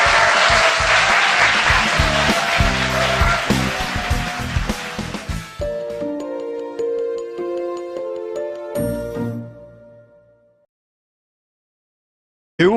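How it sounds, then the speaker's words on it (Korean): Studio audience applauding at a taping of the Korean talk show Kim Eo-jun's Papaisu: a dense, loud wash of clapping that thins and fades out over several seconds, with music playing under it and continuing alone after the clapping ends. "박수 부탁드립니다."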